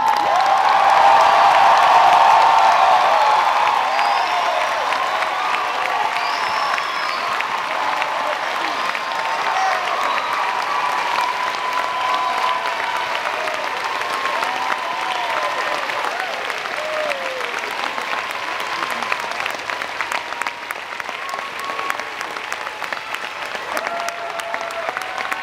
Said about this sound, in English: I now invite your applause for the class of 2011.